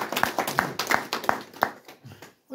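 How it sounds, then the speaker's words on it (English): A small tavern crowd claps after a live set: about half a dozen crisp, fairly even claps at close range, tapering off into a few scattered claps. "let's give them a round of applause"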